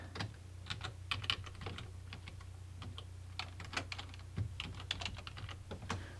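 Text being typed on a computer keyboard at a CNC design workstation, a steady run of close, crisp key clicks with irregular rhythm and occasional louder taps over a low electrical hum.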